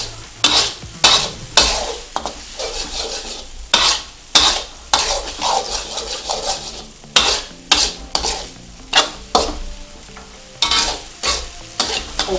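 Nasi goreng is stir-fried and tossed in a hot pan. Loud, rhythmic scrapes and clanks of a spatula against metal repeat over a steady sizzle, close up and without talk.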